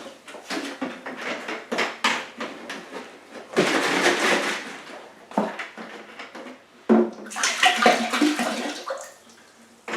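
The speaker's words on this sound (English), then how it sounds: "cold water in, give it a good swish" Cold water sloshed and swirled around inside a plastic wine-kit brewing bucket, coming in irregular splashy surges and pauses, loudest in a few vigorous swishes.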